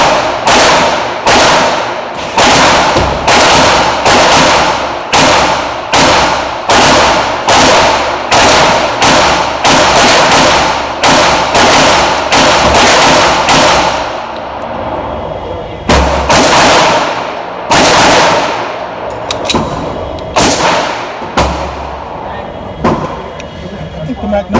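Gunshots at an outdoor shooting range, including a MAC9, a steady series of loud, sharp reports fired in quick succession, close by, then a few more spaced shots.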